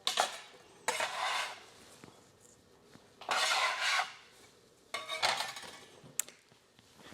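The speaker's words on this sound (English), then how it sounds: "I'm just gonna cut off some to add to our salad right now." Knife cutting food on a board for a salad, a few separate scraping, slicing strokes with quiet pauses between them, close and moderately soft.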